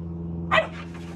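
A Deutsch Drahthaar puppy among other dogs gives a single short bark, sharp and fairly close, over a low steady background hum.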